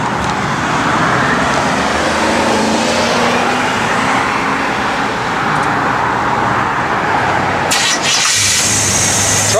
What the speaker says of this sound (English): You can go ahead and fire it up, Gary.